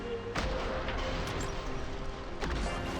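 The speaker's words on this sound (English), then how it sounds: "Grenade launcher." In the video game Rollerdrome, a grenade launcher fires: two heavy booming blasts about two seconds apart, each with a sharp attack and rumbling tail, over a dense layer of game music and ambience.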